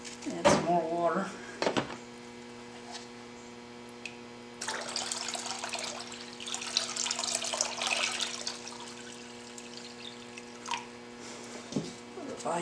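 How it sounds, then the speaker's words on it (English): Water is poured into a mixture in a bucket near a mill, a gushing splash in the middle stretch framed by brief clanks and knocks, with someone speaking before and after. "Add some more water."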